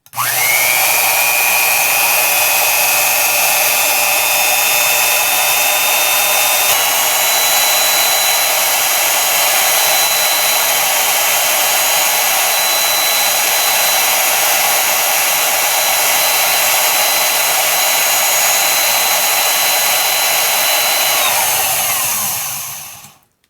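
A vintage 1950s Milwaukee S-114 Hole Shooter 1/4 inch drill runs steadily at high speed for over twenty seconds, a loud, even whine with a slight pitch step early on, spinning down at the end; no talking.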